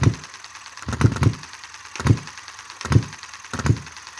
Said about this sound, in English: the engine just revs and revs and revs.